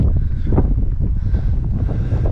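Strong wind on Cadillac Mountain in Acadia National Park, with fog rolling off the lakes, batters the microphone in a loud, steady roar with no voices.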